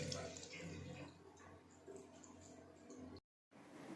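Water rinsing over a vinegar-soaked egg: a soft, close splashing trickle runs quietly and unevenly, then cuts out abruptly to silence for a moment before faintly resuming.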